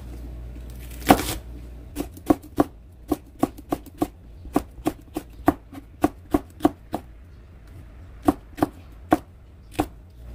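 Cheongyang chili peppers are sliced on a cutting board for minari water kimchi, giving a steady run of sharp knife chops, close and crisp, with short irregular pauses between strokes.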